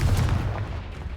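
A Confringo blasting spell cast in Hogwarts Legacy gives a loud, deep, booming burst that rolls straight into a sustained low rumble for about a second.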